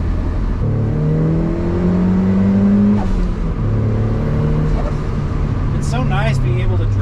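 Turbocharged Mazda Miata with a fixed exhaust driving along, engine droning and rising through gears with steady exhaust note, loud and close from inside the car, with someone talking over it.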